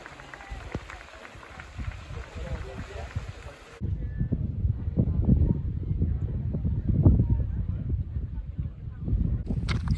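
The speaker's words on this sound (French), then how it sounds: "Le vent est trop fort." Strong gusty mountain wind buffets the microphone with a heavy low roar during an ultra trail race in Corsica, while a runner talks and breathes hard nearby.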